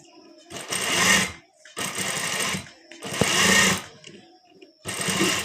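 A sewing machine stitching a neck piece for a garment runs in four bursts of rapid, buzzing needle strokes separated by short pauses, close and loud.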